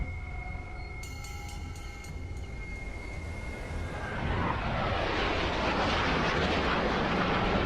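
Loud, steady jet roar from fighter jets pursuing an object, swelling sharply about halfway through into a dense, broad rushing blast that holds to the end, with no voices.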